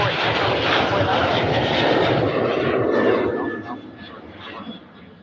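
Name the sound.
American Airlines airliner takeoff roll at Cleveland Hopkins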